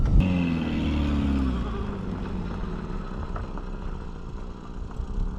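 A $500 Ford Focus speeds along, its engine droning steadily under loud road and wind roar heard from inside the cabin, with a brief rising rev at the start.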